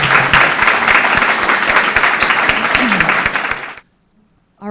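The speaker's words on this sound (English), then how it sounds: "Could we please have a nice round of applause for your candidates?" Forum audience applauds election candidates with a loud, close burst of many hands clapping that holds steady for nearly four seconds, then stops abruptly into near silence before a voice begins.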